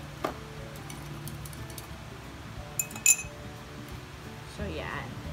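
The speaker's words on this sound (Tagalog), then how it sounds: "haluin natin ito" A spoon stirs homemade milk tea in a glass, giving a few light clinks and a brighter cluster of taps near the middle, faint and close over a quiet room with soft background voices.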